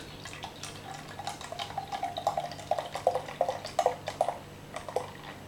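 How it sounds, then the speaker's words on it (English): Organic wheat beer from Cains Brewery being poured into a glass, a soft gurgling, bubbling pour with light fizzing that builds, close up and without talk. "let's pour this beer out"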